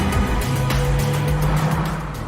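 An early-1980s Mazda RX-7 with a 1.2-litre twin rotary engine hums smoothly and continuously, a close, steady low drone that swells briefly as if revving, with no talking.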